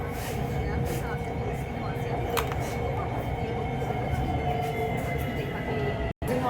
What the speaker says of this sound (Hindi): लाहौर के खूबसूरत नज़ारे आपको दिखाए जा रहे हैं ऑरेंज लाइन ट्रेन का सफ़र